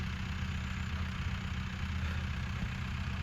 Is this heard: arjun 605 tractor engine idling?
yes